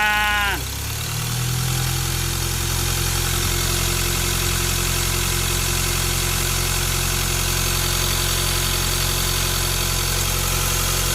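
A Ford Ranger pickup engine with a newly replaced turbo idles loudly close by; a short whining sweep at the start drops away into a steady, deep rumble that holds to the end.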